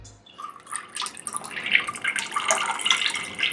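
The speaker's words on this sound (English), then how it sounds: "So I'm going to drain these a little bit more and rinse them" Cooked food being drained and rinsed under a running kitchen tap to wash off syrup for budget vegan tacos, a steady close splashing and dripping of water with no voices.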